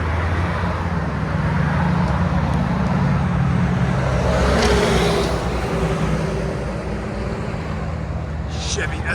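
A 2004 Chevy Silverado SS with a 6.0L V8 and Carven R-Series exhaust: a steady, deep exhaust rumble with a broad roar, close and continuous, easing slightly toward the end.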